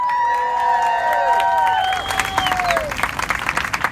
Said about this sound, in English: I want to have a round of applause for the NAACP